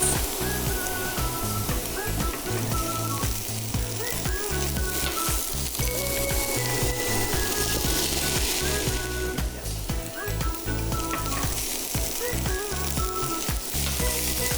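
Onion, garlic, fennel seeds and soaked cashews with lemon zest cook in a pan for a vegan alfredo sauce, giving a steady close sizzle and crackle with faint stirring, with music playing throughout.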